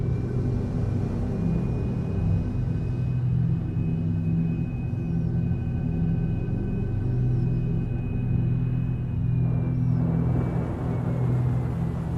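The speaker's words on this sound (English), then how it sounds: "Landing gear deployed." A spacecraft in Star Citizen sets down, its landing gear deploying over a deep, steady engine rumble with a faint tonal whine, close and continuous, with a brief shift near the end.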